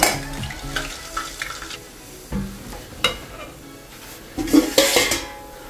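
Kala jamun balls frying in hot oil for a sweet-shop style recipe, with a soft continuous sizzle broken by clinks of a utensil against the pan and stirring knocks, fairly close and with no talk.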